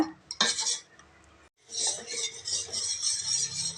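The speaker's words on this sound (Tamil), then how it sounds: "இப்போ அடுப்பு பொருத்தி கூழ் காய்ச்சுற மாதிரி நல்லா கிண்டிக்கலாங்க" A utensil scrapes and clinks against a pot of finger millet porridge on the stove, with bursts of stirring broken by a short pause, then steady scraping close by.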